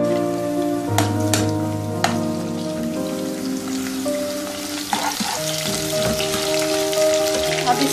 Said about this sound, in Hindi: इसको इतनी देर तक कुक करेंगे प्याज को कि इसका कलर चेंज हो जाए